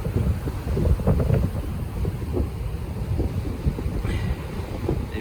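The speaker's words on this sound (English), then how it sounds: "Crazy, these waves just keep on coming." Sea waves surge and wash against a cracking shoreline in a continuous rough roar, buffeted by heavy wind noise on the microphone, with no talk.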